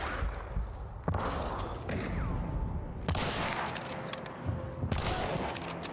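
Scattered gunshots crack out in a noisy Hunt: Showdown video game battle, a few sharp bursts spaced seconds apart over a constant rumbling background.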